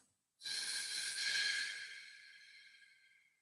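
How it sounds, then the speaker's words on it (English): One long mouth breath during a belly-breathing exercise, starting abruptly after a short silence, airy and close, then slowly fading over about three seconds. "Breathing with the mouth."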